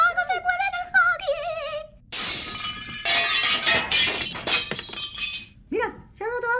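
Glass shattering and objects breaking in the horror video game Poppy Playtime, a loud crash with clinking debris lasting a few seconds, surrounded by excited voices and squeaky character sounds.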